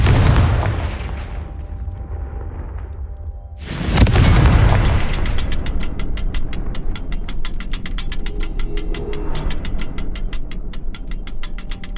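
Confringo fire spell in Hogwarts Legacy, a loud explosive burst a few seconds in, following an earlier rumble, then a fast ratcheting, clicking mechanical rattle that continues steadily to the end.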